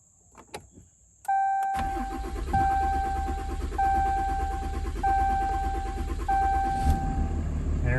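A 2016 Ram 3500 dually cranks after a chime sequence, the starter catching and the engine firing into a loud steady run, with dash chimes beeping repeatedly over it.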